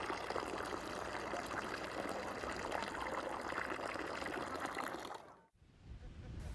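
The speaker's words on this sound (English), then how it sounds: "this is effectively the kitchen tap for thousands and thousands of people" Water pours steadily from a village tap used by crowds for drinking, cooking and washing, a continuous close splashing rush that cuts off abruptly near the end, followed by quieter ambient noise.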